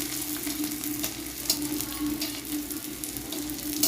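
A rice snack frying in hot oil gives a steady, close sizzle with crackling bursts and faint stirring, heard alone without talk.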